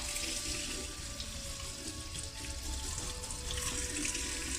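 A kitchen or bathroom tap runs continuously as a makeup brush is rinsed under the stream, a steady close splashing hiss with no talking.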